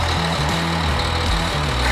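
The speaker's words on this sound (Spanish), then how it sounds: "¿Cómo crees que va a sonar el coche?" A Dodge Journey's exhaust with rubber chickens stuffed in the tailpipes gives a loud, steady, close-up low drone whose buzzy pitch jumps between a few stepped levels for about two seconds, with no talking.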